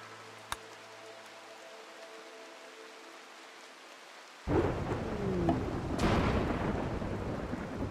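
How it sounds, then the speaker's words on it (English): A flash storm in the video game RimWorld: after a quiet stretch with a single click, heavy rain suddenly starts and thunder rumbles under the downpour, loud and continuous to the end. "And a flash storm."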